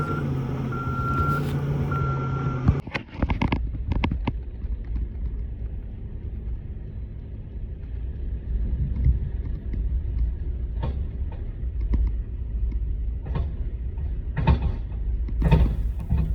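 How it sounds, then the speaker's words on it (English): A loader working at a landfill while loading compost into a pickup truck, with engine rumble, clanks and a repeated reversing beep pulsing over the machinery noise. "This loader loads it right in my truck, so easy."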